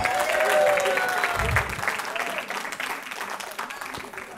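An audience at a stage event claps and cheers loudly. The applause fades gradually while a voice talks over it.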